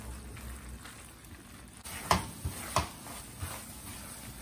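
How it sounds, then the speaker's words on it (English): Stock cooks off in a pan for a butternut squash agnolotti filling, giving a soft steady sizzle, then a few sharper bursts of scraping and stirring partway through, with no voices. "getting rid of all the liquid, evaporating it. Let's cook all that stock out."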